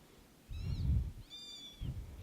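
Week-old kittens, eyes and ears still closed and umbilical cords still attached, give two or three thin, high mewing cries in quick succession, close up, over a low rumbling background.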